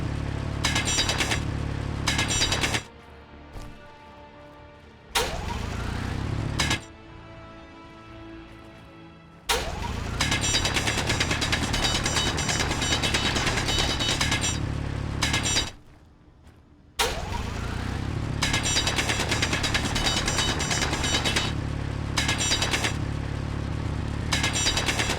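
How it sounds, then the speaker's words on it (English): A mechanical drill grinds steadily in the video game Space Engineers, boring out material in a long, loud, continuous drone that cuts out briefly several times and restarts, with no talking. "Yeah, drilling this out. It does take a while."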